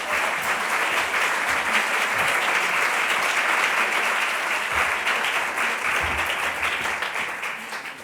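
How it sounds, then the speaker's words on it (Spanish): A crowd claps steadily and warmly for several seconds at a ceremony in Lugo, a dense patter of many hands that slowly fades toward the end. "Un aplauso para él."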